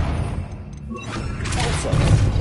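Confringo spell blast in Hogwarts Legacy, a fiery booming burst that swells and rumbles louder toward the end after a brief quieter moment.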